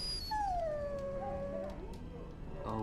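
Dog whimpering in the video game Dragon Age: Origins: a single long, high, falling whine with faint overtones, followed by quieter soft whimpers and a brief rustle at the end, no talking.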